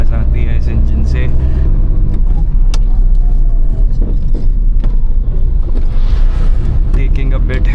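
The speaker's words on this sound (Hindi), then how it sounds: "When you lift off your foot from the gas pedal, आपको एक बहुत ही ज़्यादा रिवॉर्डिंग सी आवाज़ आती है इस इंजन से।" A 27-year-old Maruti 800 climbing a hill, its small engine droning loudly and continuously from inside the cabin, with someone talking over it.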